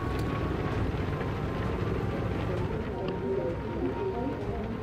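Steady droning aircraft engine roar in Bomber Crew, an enemy plane below the bomber taking shots, a dense continuous rumble with faint crackling, muffled talk over it.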